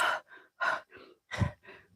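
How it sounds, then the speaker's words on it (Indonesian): Heavy, out-of-breath panting from a person after exertion in a candlelit dare setting, three rapid in-out breath pairs, close and breathy, with no talk. "Aku ngos-ngosan."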